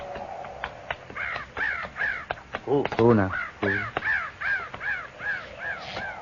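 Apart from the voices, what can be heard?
crows cawing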